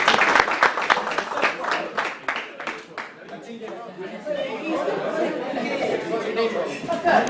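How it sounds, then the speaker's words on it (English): A banquet audience cheering the soccer team with a burst of clapping that fades into lively chatter and murmuring voices, the crowd close and moderately loud throughout. "Round of applause for the whole group again."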